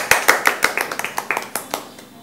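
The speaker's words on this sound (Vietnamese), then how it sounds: "Cho một tràng pháo tay nào." A small group gives a short burst of applause, with a dozen or so sharp, close hand claps in a quick, uneven rhythm that thins out and fades within two seconds.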